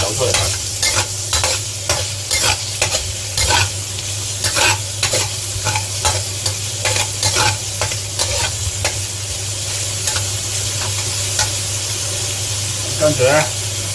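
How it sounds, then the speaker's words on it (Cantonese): Bacon sizzles and crackles in a hot pan with garlic and shallots during a stir-fry, with steady frying hiss, repeated scraping stir strokes and a low hum underneath, plus a brief clatter near the end. "擺埋啲煙肉落去，因為煙肉爆咧，就會有好多香味走出嚟。"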